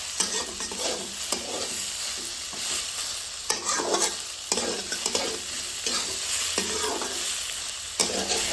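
Shredded cabbage stir-fried in a pan, a loud steady sizzle broken by repeated scraping strokes of a spatula every second or so, close up with no voices.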